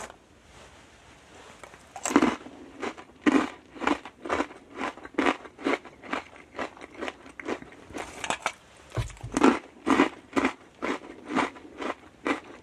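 Non-spicy corn chips are bitten and chewed close to the mic, giving a steady series of sharp, crisp crunches in a regular rhythm with short pauses and no talking.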